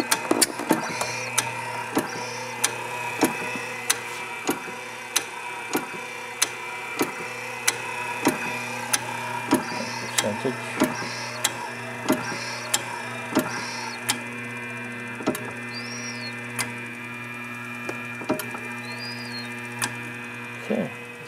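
A Harvard Apparatus dual phase control respirator runs steadily with a constant electrical hum, overlaid by sharp, evenly spaced mechanical clicks about once a second as it cycles, with faint higher hissing air pulses in between.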